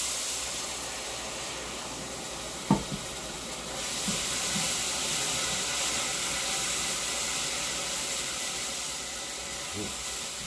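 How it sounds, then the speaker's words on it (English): Steady broadband steam hiss rising from a cooking pot while jambalaya is being made, continuous and fairly close, with a couple of brief knocks partway through and no talking. "That's a good bit of fucking steam right there."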